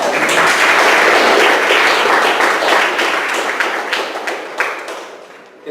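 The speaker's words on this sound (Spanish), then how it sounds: "Un aplauso." Audience applause at an academic lecture on constitutional law, loud, dense clapping from a large crowd that swells briefly then thins and tapers off into scattered claps and thumps.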